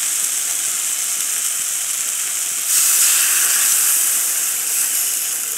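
Water poured into a hot pan of fish curry (fresh rohu-style fish in thin gravy) sets off a steady, loud hiss and sizzle that swells sharply partway through and stays strong to the end.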